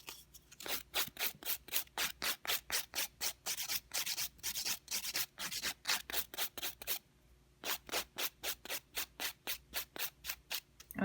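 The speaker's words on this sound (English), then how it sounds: "I'm making sure that as I'm filing, I'm not taking away the arch of the nail." Rapid, rhythmic rasping strokes of a file shaping a sculpted gel nail, about two to three strokes per second, close and crisp, with a brief pause midway before the steady back-and-forth resumes.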